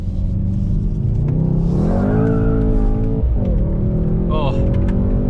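A 2020 Mercedes-AMG GT 63 S in drift mode with traction control off, engine revving loudly as tires squeal through a sustained slide, rising and falling in pitch, close and continuous.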